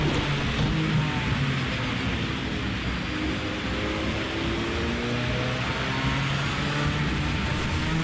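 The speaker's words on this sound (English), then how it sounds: "The car I'm using in this race is the Ford GT GTE." A Ford GT GTE race car in Project Cars 2 drives in the rain, its engine a steady droning tone over a dense hiss of rainfall and spray, continuous and fairly loud with no talking.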